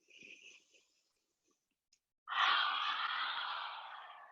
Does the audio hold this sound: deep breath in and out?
yes